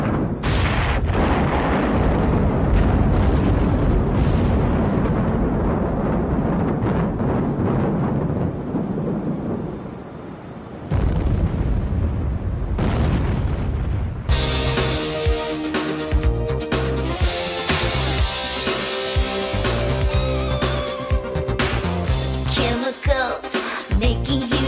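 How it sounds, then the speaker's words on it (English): Loud, rumbling blasts roll and boom one after another, followed by crackling bursts and a sharper, brighter stretch of noisy detonations. "Chemicals making huge explosions"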